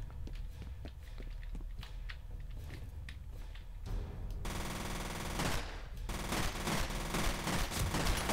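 A low-recoil gun fires in F.E.A.R. in a dense, continuous stream of rapid shots. Footstep-like thuds and game noise sit underneath, and the firing grows louder and brighter partway through.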